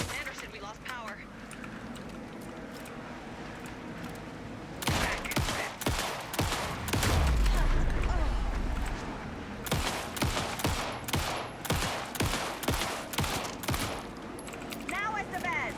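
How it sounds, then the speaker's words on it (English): Rapid bursts of gunfire from the video game Alan Wake 2 crackle in dense volleys, loud and close, with a deep boom in the middle and a voice speaking between shots. "Anderson, pin him down with gunfire for me to get the light on him."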